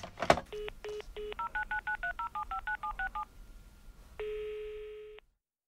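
A telephone number is punched in on a touch-tone keypad: about a dozen clear beeps in quick, even succession, then a single longer steady tone that cuts off into silence.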